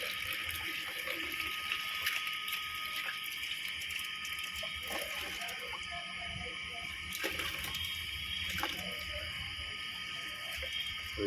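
Water runs steadily from a tap while plant sprigs are washed, a continuous close splashing hiss with occasional louder splashes and handling sounds.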